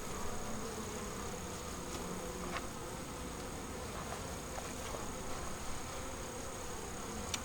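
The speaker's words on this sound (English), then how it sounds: "There's an awful lot of bees in here for not having a queen." Honey bees crowd a queenless hive and hum in a steady, dense drone close by, with scattered fainter buzzes and no voices.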